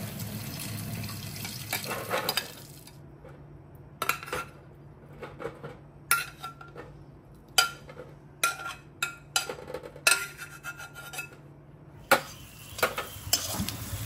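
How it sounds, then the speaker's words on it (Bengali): Onions fry in a pan for a country chicken curry, sizzling at first, then a spoon scrapes and clinks against the metal in irregular bursts between quieter stretches. "পেঁয়াজ ফ্রাই হয়ে গেছে।"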